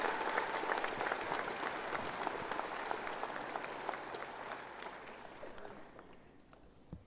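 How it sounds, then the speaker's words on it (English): Audience at a high school graduation ceremony applauding, a dense, sustained wash of clapping from a large crowd that gradually thins and fades toward the end. "Please give this group of remarkable young adults a round of applause for their extraordinary effort."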